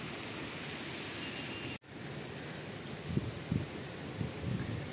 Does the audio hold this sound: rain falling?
yes